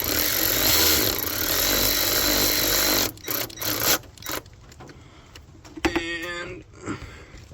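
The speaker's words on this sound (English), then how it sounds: "I'm gonna turn my ratchet to tight. I'm just gonna run this down real quick so it's easier to get that second bolt on." A ratchet runs down a bolt on a 1997 Jeep Wrangler thermostat housing: a loud, close buzzing whir for about three seconds, then scattered clicks and clanks of tool work.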